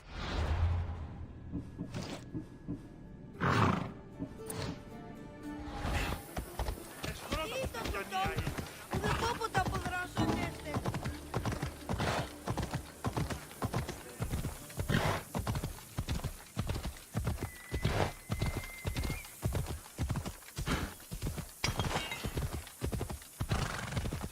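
In Assassin's Creed Odyssey, a horse whinnies and then gallops in a fast, steady, rhythmic clip-clop of hooves that continues to the end, with a voice calling out near the start.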